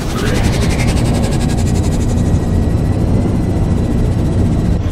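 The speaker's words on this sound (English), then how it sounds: "Engines at maximum." Spaceship engines at maximum thrust in the space combat game Rebel Galaxy: a loud, steady, dense roar with a hissing top that holds without a break for the whole stretch.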